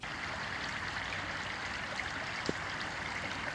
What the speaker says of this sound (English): And then eventually, the creek makes its way out here.